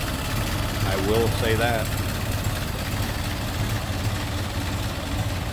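A 1925 Ford Model T Coupe idles with a steady low rumble, while someone speaks briefly over it near the start.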